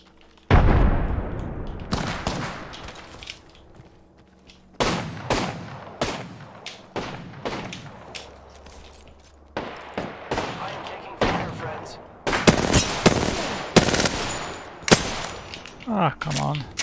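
Enemy gunfire in an online shooter video game, a series of sharp close cracks and short bursts with brief gaps between volleys and a louder cluster toward the end.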